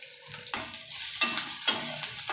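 Something roasting in a pan for kolambicha rassa, a prawn curry, is stirred in short strokes. Each stroke brings a swell of sizzle, with a few scraping clicks in quick succession.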